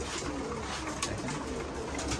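Pigeons coo softly in a short, faint burst as they feed after a deworming course, with low rounded calls that overlap and repeat.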